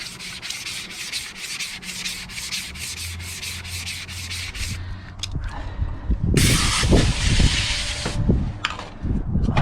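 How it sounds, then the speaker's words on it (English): Sandpaper on a sanding block worked in straight strokes across an aluminum car body panel, a rapid rhythmic scratching rasp at close range, later giving way to a broader hissing rub with some knocks. "I got my sandpaper on the sanding block, and I'm just doing nice straight lines."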